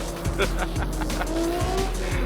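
A car in the street-racing game CarX Street brakes hard and skids, tires squealing in steady high whines over a constant engine drone, with a voice talking over it.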